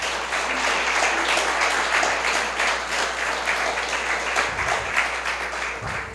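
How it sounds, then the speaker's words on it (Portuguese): A church congregation applauds in continuous, loud, dense clapping that carries on without a break, with a few faint voices underneath. "Aplauda o Senhor, para a honra e glória do Senhor."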